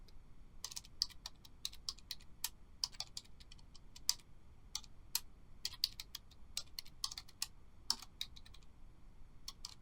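Typing MATLAB code on a computer keyboard: a steady run of quick, light key clicks with irregular rhythm and a few sharper taps, close and fairly quiet, with no talking.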